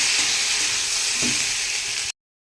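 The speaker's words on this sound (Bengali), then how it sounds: "এইবার এটাকে আমি ভেজে ভেজে কষে কষে করবো" Vegetables and lentils frying in a pan for a Bengali gajghonto dish give off a loud, steady sizzle with a faint stir partway through, then stop abruptly.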